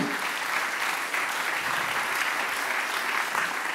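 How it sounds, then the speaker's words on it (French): An audience at a conference session on collective energy self-consumption applauds the panel speakers with dense, steady clapping that fills the room at an even volume and carries no talk. "On peut les applaudir."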